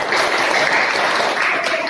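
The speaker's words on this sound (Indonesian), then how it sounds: "kita beri tepuk tangan untuk Mas Rifa" Applause from a class for a student named Rifa during a school lesson on measuring body weight, a short, even burst of clapping that runs dense and unbroken with no talk.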